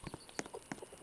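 Horse hooves clip-clopping in a video game, a quick, close, uneven series of hoof knocks over a short stretch, with no talking.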